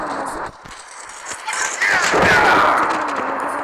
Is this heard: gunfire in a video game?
yes